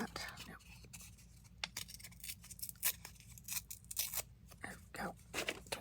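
Coffee-dyed paper is torn by hand for a ragged edge, several short crisp rips and rustles heard up close and faint against a quiet room.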